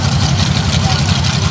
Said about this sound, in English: Robert Gallagher with a 959 cubic inch Pat Busey racing engine tuned by Ryan McCain.